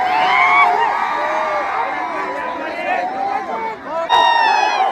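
A large crowd at a bullock cart race cheers loudly with whoops and shouts, and people yell and talk over the roar from start to finish.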